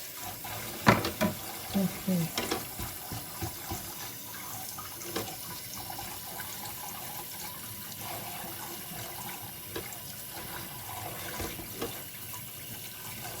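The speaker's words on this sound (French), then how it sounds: "je refais de la vaisselle" Tap water runs steadily into a kitchen sink during dishwashing at home, a continuous hiss broken by a few brief clatters near the start, with a short spoken word early on.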